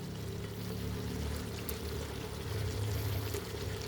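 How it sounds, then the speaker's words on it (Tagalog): Broccoli tipped into a hot pan of pork belly with green onion, setting off a steady, close sizzle and crackle of frying fat that runs continuously with no voices. "Ilagay na rin natin yung broccoli natin."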